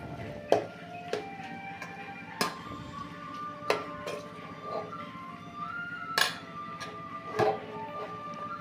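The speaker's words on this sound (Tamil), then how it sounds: "ஆயில் ஊற்றி நல்லா கிளறி விட்டுக்கோங்க" A metal spoon scrapes and clinks against a pan while stirring mutton kothu rice, with sharp taps spaced every second or so over a low, steady sizzle; no talking.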